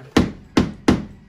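A toy hammer banged three times, giving sharp, close knocks with short decays at uneven intervals and no voices.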